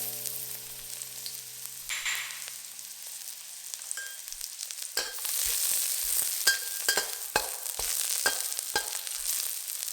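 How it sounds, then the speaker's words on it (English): Ginger and garlic fry in two tablespoons of hot oil in a pan over medium heat, a steady hiss that jumps louder midway, punctuated by sharp stirring clicks and scrapes. "In a hot pan over medium heat, put in 2 tablespoons of oil. Toss in the aromatics. That's the ginger and the garlic."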